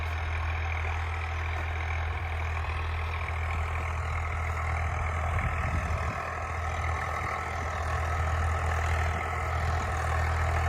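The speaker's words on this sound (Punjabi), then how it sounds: "1600 ਚੱਕਰ ਦੇ ਟਰੈਕਟਰ ਚੱਲ ਰਿਹਾ ਇਹ" A tractor running at about 1600 rpm while pulling a 13-tine cultivator through a field, giving a steady, heavy low engine drone that holds constant throughout with no speech.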